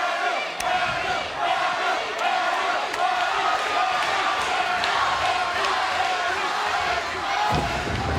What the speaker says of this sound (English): Crowd at Victory Road, getting into the skin, getting in the head of Kurt Angle.